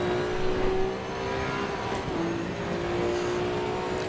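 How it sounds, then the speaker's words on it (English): Race car engine in the sim racing game Assetto Corsa Evo on the Bathurst circuit, a steady, sustained droning hum at cruising revs with a slight pitch shift midway, continuous and fairly loud. "the sounds, the engine sounds. They're not the best. This one's okay"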